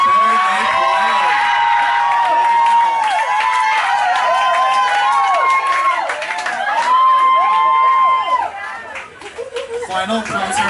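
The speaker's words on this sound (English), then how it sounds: "The louder you cheer" An audience at a high school hypnosis show cheers and screams loudly and continuously, with whoops rising over the crowd noise before it starts to fade.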